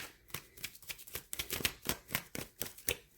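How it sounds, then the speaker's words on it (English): Tarot cards being shuffled by hand, a quick run of crisp riffling snaps and flicks in an irregular rhythm, close and quiet, with no voices. "So I'm going to shuffle a few cards"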